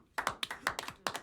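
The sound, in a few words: hands clapping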